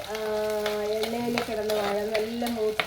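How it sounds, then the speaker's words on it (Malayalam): Garlic, ginger and small onions sautéing in a pan for a Malayalam-style tuna fish curry, a steady close sizzle broken by repeated scraping stirs with a spoon. "വെളുത്തുള്ളി ഇഞ്ചി എല്ലാം കൂടി ചേർത്ത് നല്ലപോലെ വഴച്ചെടുക്കാം"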